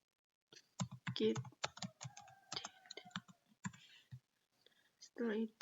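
Someone types a git commit command on a computer keyboard. Rapid, uneven clicking keystrokes run beneath a person's quiet talking.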